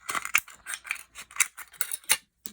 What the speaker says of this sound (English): So you can use the school scissors, but be careful of this aluminum.